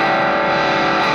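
An electric guitar through a Behringer GM108 amp set to high-gain California mode with the US speaker setting, played with a Beyond Tube Pre Amp, a loud, dense sustained distorted chord ringing out steadily.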